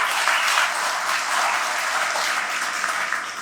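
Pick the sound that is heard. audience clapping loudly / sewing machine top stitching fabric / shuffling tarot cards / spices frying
audience clapping loudly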